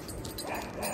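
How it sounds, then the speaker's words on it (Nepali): A pet dog at a village pond lets out a brief whimpering yip, close and moderately loud, over a constant background hiss. "कुकुर"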